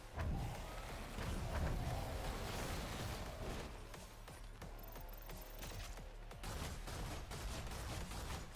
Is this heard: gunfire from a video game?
yes